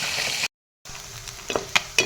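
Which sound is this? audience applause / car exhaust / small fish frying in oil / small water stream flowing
small fish frying in oil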